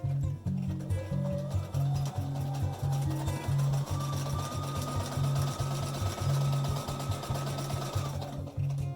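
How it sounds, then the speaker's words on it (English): A sewing machine stitches a 3/8 inch seam along the edge of fabric for a face mask. The motor whirs close by in bursts with short pauses, and the needle's rhythmic chatter runs steadily underneath. "Back at the machine, we're going to sew a 3/8 inch seam allowance from the edge of the fabric to the 2-inch line"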